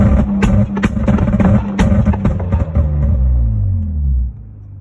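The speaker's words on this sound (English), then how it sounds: "this is your rolling anti-lag button. Hold that down and then rev." A car engine fitted with an MS4X ECU revs hard with rolling anti-lag engaged, throbbing loudly with sharp crackling pops through the exhaust before the revs drop away and fade.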